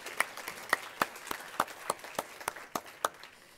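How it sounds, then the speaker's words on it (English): Scattered clapping from a small group at an advocacy summit, sharp irregular claps at moderate distance, fairly faint, with no voices. "We can give that applause."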